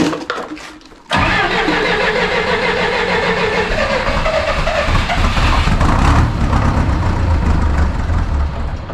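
A heavy MTZ-892 tractor diesel engine cranks and fires after a second without preheating, then runs loud and rough close by, a steady diesel clatter to the end.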